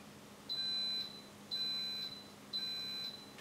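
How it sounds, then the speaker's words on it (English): An Instant Pot pressure cooker timer beeps three times at even intervals, each beep about half a second long, thin and electronic, with a faint low hum underneath and no talk. "the timer just went off"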